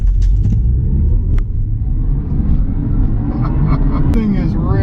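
A BMW i4 M50 electric car surges forward hard from a standstill under launch control, a loud continuous low rumble and road roar with a faint rising whine, and voices talking over it.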